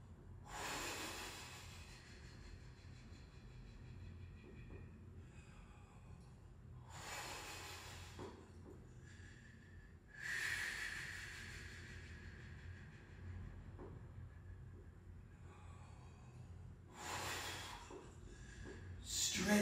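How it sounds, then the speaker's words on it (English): A person takes deep breaths through the mouth while holding a stretching bow pose, with four or five loud, rushing exhalations spaced several seconds apart and faint voice and background murmur between them. "Breathing through the mouth."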